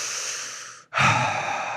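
A man imitates a heavy breather on a phone call, with two long, loud, raspy breaths close to the microphone, separated by a brief pause.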